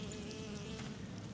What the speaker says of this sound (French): Il y a des mouches.